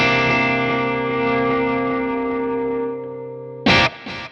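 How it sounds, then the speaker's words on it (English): An electric guitar played through a Boss Katana MkII amp with a chorus and delay effect holds a shimmering, sustained chord that slowly fades, then two short strummed stabs ring out near the end, with no talk. "This is a one knob chorus found in a particular Boss delay chorus module, and you can have chorus or you can have the delay"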